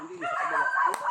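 Dogs near a rural hut yip and bark briefly, a close, whiny bark standing out over a short, faint background of voices.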